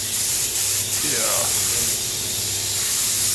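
Spray gun painting the body of a 1938 SS Jaguar 3½ litre drophead, a steady broadband hiss running throughout, with a brief spoken word partway through.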